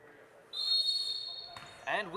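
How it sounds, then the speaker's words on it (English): A referee's whistle starts a futsal match between Capital Futsal and Inter Detroit at a Lansing high school gym: one long, steady, piercing blast over a low crowd murmur, followed by a voice. "We're just waiting for the whistle now."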